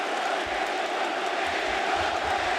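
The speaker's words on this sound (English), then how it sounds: "And now listen to the cheer." Arena crowd at an AEW Dynamite Grand Slam wrestling match cheering loudly, a dense continuous roar of voices with shouts rising through it, close and sustained throughout.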